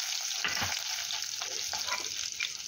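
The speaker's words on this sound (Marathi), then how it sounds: "हे सर्व छान असे फ्राय करून घेऊया।" Cumin, mustard seeds, whole spices and curry leaves sputter in hot oil with a bright, dense sizzle, broken by a few soft stirring knocks. The burst is short and no one speaks.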